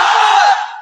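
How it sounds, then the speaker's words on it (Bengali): A large crowd shouts the takbir (Allahu Akbar) together at a Bangla religious sermon gathering: one loud, massed roar of voices that fades out within a second. "3টা তাকবীর, আপনারা তাকবীর দেন।"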